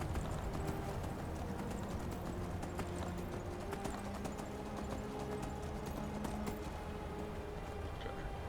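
Horse hooves clip-clopping steadily in Skyrim, a continuous close trotting rhythm over a dense ambient game soundscape, with no talk.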